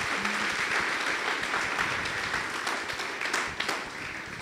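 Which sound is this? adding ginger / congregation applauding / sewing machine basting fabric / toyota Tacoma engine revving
congregation applauding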